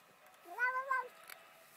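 A house cat lets out a single short, rising-and-falling meow, close and fairly quiet, in a brief clip with no talking.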